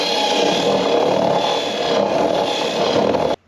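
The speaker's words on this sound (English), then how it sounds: "So we're just gonna ream it out and then put the bulkhead through, and it should be fine." A battery power drill reams out a hole to fit a 2-inch bulkhead, a loud, steady grinding whir held for about three seconds before it stops abruptly.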